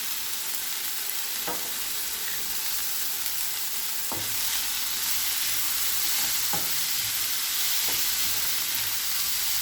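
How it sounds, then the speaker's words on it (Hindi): Chopped vegetables with green chillies and salt stir in a pan for an omelette, giving a steady hiss with four soft scraping strokes spaced a couple of seconds apart, close and fairly quiet, with no talk. "इन्हें मिक्स करेंगे। अब इनमें नमक डाल देंगे।"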